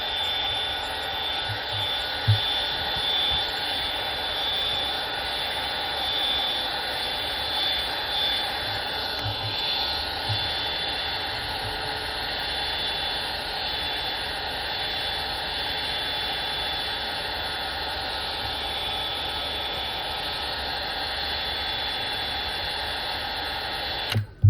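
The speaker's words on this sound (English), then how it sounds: "I'm using a hot air gun." A hot air gun blows with a constant loud whoosh and a steady high whine while heating an iPhone 11 back glass for removal, running unbroken for a long stretch.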